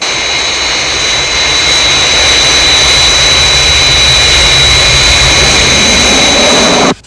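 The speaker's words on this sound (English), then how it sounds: "Fireflash, on final approach." A Fireflash jet airliner in Thunderbirds roars on final approach, a loud, constant jet-engine whine with a piercing high tone that holds steady for about seven seconds before cutting off abruptly.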